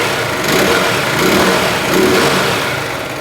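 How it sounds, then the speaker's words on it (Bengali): A Zontes G1 Scrambler 155cc motorcycle engine runs close up, a loud continuous buzzing drone that swells gently as it is revved, heard alone without talk. "বাইকটা স্টার্ট করে আপনাদেরকে ইঞ্জিন সাউন্ডটা শোনানো যাক। বাইকের সাউন্ডটা আপনারা শুনতে পাচ্ছেন আশা করি।"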